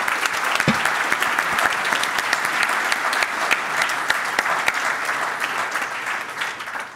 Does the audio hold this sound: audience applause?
yes